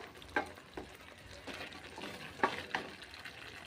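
Carrot halwa with sugar stirred in a pan: a quiet, soft sizzle broken by irregular scraping clicks of a spoon against the pan, with several sharper strokes standing out.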